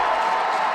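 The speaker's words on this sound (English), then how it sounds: "Crowd getting loud here in Rocket Arena." A basketball arena crowd roars during a MAC men's game between Toledo and Ohio at Rocket Arena, a loud, dense, continuous wash of cheering and noise.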